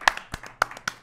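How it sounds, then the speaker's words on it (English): Hand claps ring out in a quick series, four or five sharp slaps in uneven rhythm, close and crisp, with no talking over them. "First clap of the day."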